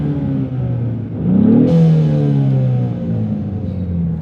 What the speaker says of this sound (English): you really hear it from that side of the vehicle, obviously, where the blow-off valve adapter is